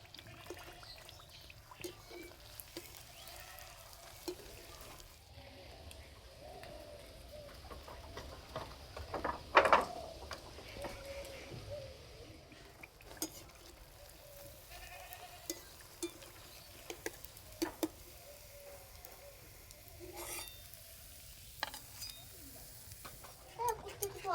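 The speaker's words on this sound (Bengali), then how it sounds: "আর এইভাবে একটু সময় ধরে ভেজে নিলে ভিতর পর্যন্ত খুব সুন্দর ভাজা হবে।" Poa pitha made from dried rice flour fries in a pan for Poush Sankranti, a soft, faint continuous sizzle with occasional scraping taps of stirring and light clinks.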